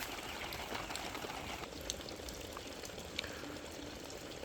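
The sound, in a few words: water sprinkler spraying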